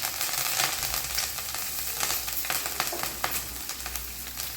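Pieces of boiled egg stir-fried with coriander for an egg fry, hissing steadily in a hot pan with scattered spatula scrapes and crackles, close and continuous with no voices.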